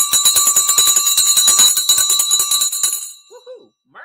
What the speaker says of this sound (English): it is time for the bell.